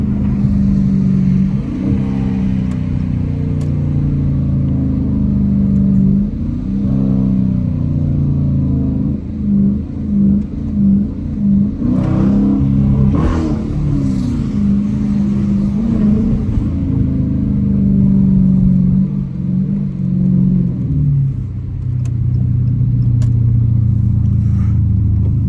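A Dodge Challenger R/T's V8 engine rumbles loudly and revs up and down, a deep throaty roar swelling as it accelerates on the street, close by.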